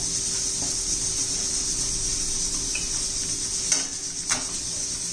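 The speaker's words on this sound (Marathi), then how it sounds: "एक चमचा धना पावडर घालायची आहे थोडीशी हळद घालूया हे चांगलं परतून घेऊ" Coriander powder and turmeric sauté in a pan for a Maharashtrian pavta and potato curry, a steady hissing sizzle with a couple of faint spoon scrapes against the pan; no talking.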